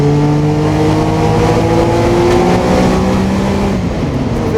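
A Porsche 962C race car accelerates hard as its turbo comes on, the engine rising in a loud, continuous climbing drone heard from up close.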